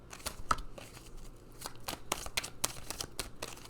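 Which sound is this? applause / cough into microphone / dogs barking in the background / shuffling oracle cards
shuffling oracle cards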